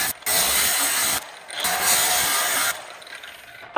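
A big angle grinder cuts into the metal frame of a monster truck in loud, harsh bursts of high whining and screeching, stopping and restarting between cuts.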